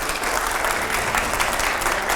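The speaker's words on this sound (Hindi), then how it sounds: "नेक्स्ट सवाल, जरा जोरदार तालियां हो प्लीज।" Studio audience applauding during a televised political panel discussion with Priyanka Chaturvedi and five editors: a loud, even, continuous roar of many clapping hands lasting about two seconds.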